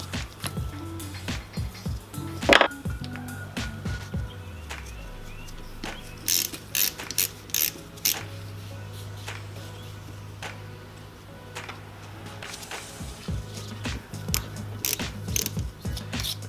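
Ratchet with an 8mm socket removing bolts during a Toyota Tacoma AC compressor replacement: rapid clicking pawl bursts in short runs, close and moderately loud, separated by brief pauses and a low mechanical hum.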